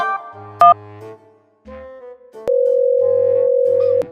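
A steady telephone dial tone hums continuously through the second half, preceded by brief tones and faint clicks of handling.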